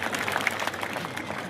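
An audience claps loudly together to welcome a guest onto the stage at a community gathering, a dense, steady wash of applause with a faint murmur of voices.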